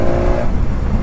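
A 2019 BMW S1000XR motorcycle engine pulling hard around 3,000 RPM, a loud, close, continuous rumbling drone with wind noise over it.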